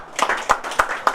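A few sharp hand claps at a public consultation meeting on licensing water service providers, spaced evenly in a slow rhythm, close and moderately loud.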